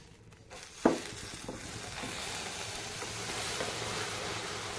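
Milk poured little by little into caramelized sugar in a pan, a sharp hiss on contact followed by steady sizzling and bubbling that holds at a moderate level.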